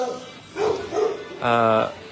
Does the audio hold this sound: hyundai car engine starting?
no